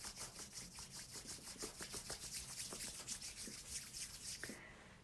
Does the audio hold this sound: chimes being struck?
no